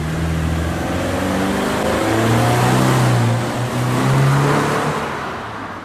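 Subaru Impreza Sport with its stock muffler at mid speed in the Gran Turismo video game: a steady, close engine drone that swells and eases slightly as it holds pace, with no voices.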